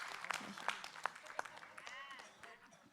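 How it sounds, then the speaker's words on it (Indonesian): An audience at an Islamic religious gathering applauds a preacher as he is called up, producing quick uneven claps and crowd noise while voices talk over them. "Tepuk tangan buat Ustadz Maulana"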